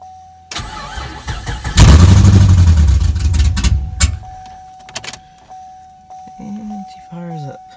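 Chevrolet Camaro SS V8 on open headers cranking briefly, then firing up with a loud raw roar that holds for a couple of seconds before dropping to a rough idle, with a voice speaking near the end.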